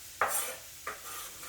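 Diced peppers drop into a frying pan for an omelette with two quick, faint sizzling hisses about half a second apart, close by and quiet.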